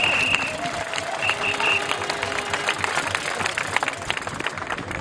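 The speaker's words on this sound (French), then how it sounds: "je voudrais qu'on les applaudisse" Outdoor crowd applause at a protest against the health pass in Auxerre, August 2021. Continuous clapping with an idling engine rumbling underneath and faint crowd murmur throughout.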